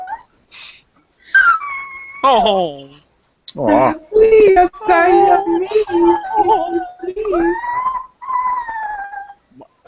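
A dog whimpers and whines in high, wavering cries, repeated in several drawn-out bursts, with people briefly reacting in soft voices between them.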